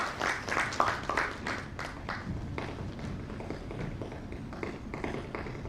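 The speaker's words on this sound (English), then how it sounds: "Please give a round of applause to Ms. Sarah Khan." Audience applause at a leadership summit for a heart-touching foundation, a steady wash of many hands clapping with scattered sharper claps, fairly close and continuous throughout.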